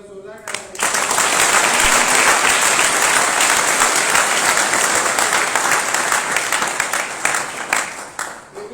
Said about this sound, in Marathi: तर बाबासाहेबांसाठी एकदा जोरदार टाळ्या